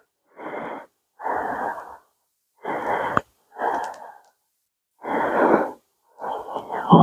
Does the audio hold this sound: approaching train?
no